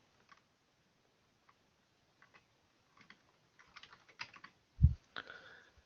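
Typing on a computer keyboard to write a database query, faint and sparse keystrokes at first that build into a quicker cluster of clicks, ending in a louder thump and rattle of keys.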